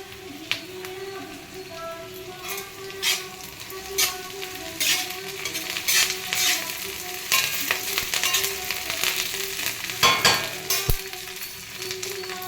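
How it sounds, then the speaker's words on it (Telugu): Curry leaves tossed into hot oil for tempering a mango pulusu, producing a bright crackling sizzle with repeated stirring scrapes and occasional light clinks of utensils, close and steady throughout. "ఇలా కొంచెం వేగిన తర్వాత కరివేపాకు వేసుకుంటాను"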